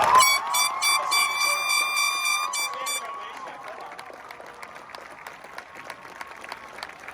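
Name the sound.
audience applause at a graduation ceremony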